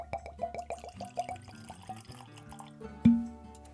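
Maker's Mark bourbon poured into a glass, a quick series of glugs and drips at close range, then a sharp clink of glass, fairly quiet with no talk.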